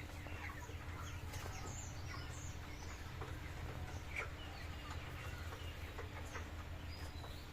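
About two hundred 21-day-old chickens in a poultry farm shed give scattered soft clucks and chirps over a constant low hum, with no one speaking.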